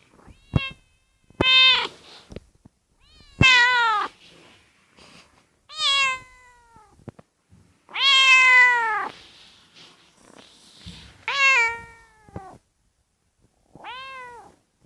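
Two pet cats, Nabi and Ruby, meow in a series of clear, loud, drawn-out cries, about eight calls spaced with pauses between them, close by in a quiet room.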